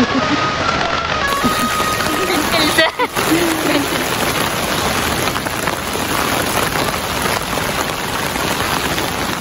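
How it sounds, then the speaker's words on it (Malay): Rain falls at a campsite, a dense, steady hiss of drops hitting surfaces that stays loud and close throughout, with a brief dip near the middle. "Hujan"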